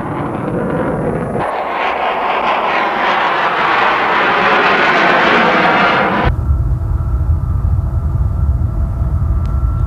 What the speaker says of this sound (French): On équipe un XH-51 d'un turboréacteur et de petites ailes pour le tester en tant qu'hélicoptère combiné.